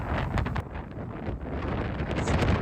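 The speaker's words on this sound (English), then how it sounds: "a little bit more windy of course" Wind blows outdoors across a Florida parking lot at dusk, buffeting the microphone in soft, uneven gusts that rise and fall at a fairly low level, with no voices.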